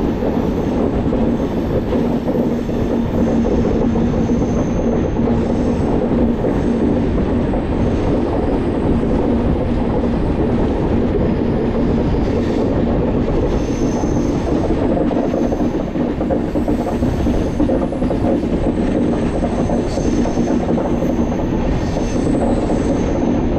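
The 13149 Kanchankanya Express runs through Mahananda Reserve Forest with a loud, continuous rumble of wheels and carriages that holds steady throughout and carries faint rail squeals, with no voices.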